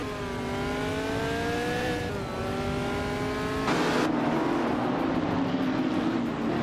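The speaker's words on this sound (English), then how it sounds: "Someone is driving a 1966 McLaren M10A" A 1966 McLaren M10A race car engine in a racing video game drones loudly and steadily, with its pitch climbing through the gears and a shift or two, then settling into a rougher sustained roar.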